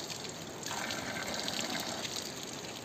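Very cold water flows along an outdoor stream, a quiet, steady trickling and burbling that holds evenly throughout with no voices over it.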